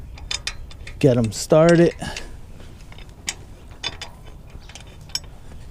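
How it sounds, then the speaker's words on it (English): A socket turning bolts by hand during a Harley-Davidson Screamin' Eagle air cleaner kit install makes a few quick close clicks and ratchety metallic ticks. Someone speaks briefly in between. "I'll take the socket, just turn them in a little by hand"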